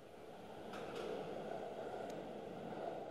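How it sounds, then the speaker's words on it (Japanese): An out-of-service train rumbles steadily away from a platform at Osaka Namba Station, its low mechanical hum building and holding, with a few faint squeals and clicks from the wheels. "2番乗り場から回送電車が発車します"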